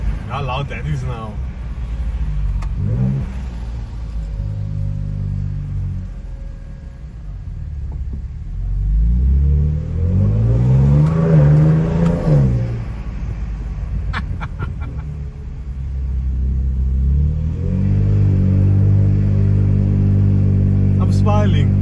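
Ford Ranger Raptor pickup engine revving loudly with the windows open, a deep rumble that swells into strong rev surges and settles again, heard from inside the cab with people talking over it.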